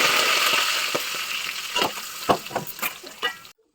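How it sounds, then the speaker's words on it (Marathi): Spice tempering sizzles loudly in hot oil, a dense hissing fry broken by sharp crackles and pops that grow sparser before cutting off abruptly. "अशी एकाला अशी ताडाडून ताडाडून फोडणी बसली ना तरच मज्जा येते"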